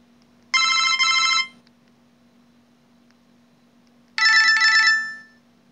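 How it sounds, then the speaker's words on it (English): A Motorola V180 phone sounds two short bursts of its built-in ringtones, each a bright warbling electronic trill close up, with a pause of a few seconds of near silence between them. "These are the built-in ringtones."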